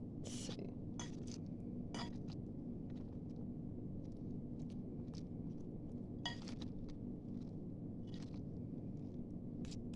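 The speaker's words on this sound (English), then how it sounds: "We're just coating the salad." Salad is tossed with dressing in a bowl, producing scattered soft clinks and scrapes of utensils against the bowl over a low steady background hum, close and quiet, with no talk.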